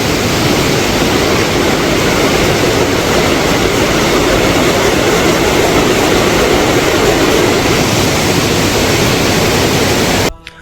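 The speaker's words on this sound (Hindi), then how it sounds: "मंदाकिनी नदी की धारा भी अपने पूरे प्रवाह में कलकल बहती हुई" The Mandakini river at Kedarnath in the Kedar valley, swollen by rain, rushes in full flow, making a steady, loud, unbroken roar of churning water that continues without pause until it ends suddenly.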